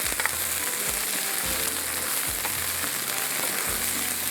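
Okra fries in a covered pan with a constant close sizzle and crackle, marked by a few soft low thumps at intervals.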